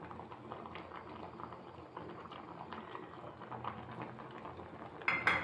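A pot of salted water with ragi flour bubbles and simmers softly and steadily, with a brief clink near the end.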